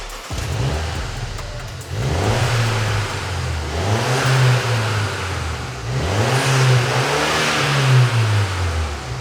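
Mini JCW engine revving repeatedly through a Remus centre-exit exhaust, several rising and falling rev sweeps over a continuous loud idle rumble, up close with no talking.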